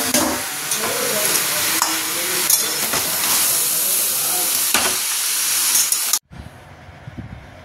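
A fish head drops into hot oil in a wok and sizzles loudly and steadily with crackling spatter and stirring scrapes, then cuts to a quieter stretch near the end.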